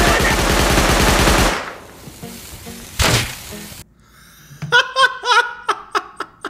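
Rapid automatic gunfire bursts out in the video game Rust, loud and dense, then a single sharp shot cracks, followed by excited laughter and voices.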